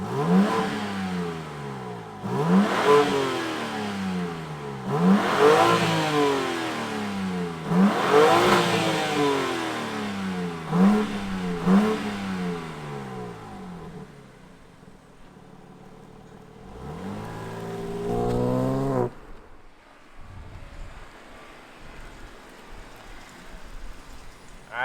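A 2022 BMW M4 Competition's engine fires up and revs repeatedly, each blip rising and falling in quick succession, then settles before one last rev and a drop to a low idle, loud and close.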